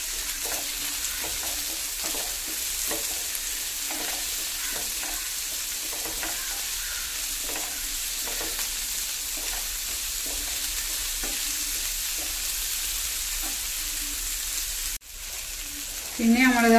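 Tomatoes sauté in an oily pan with a steady, close sizzle, and a spoon scrapes and stirs in regular strokes throughout. A louder clatter comes right at the end.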